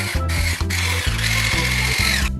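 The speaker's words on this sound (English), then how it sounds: "Use a mixer to make it more smooth." An electric hand mixer whirs through cookie dough in a steady motorized drone, pulsing in short bursts as the beaters bite into the mixture, close and loud.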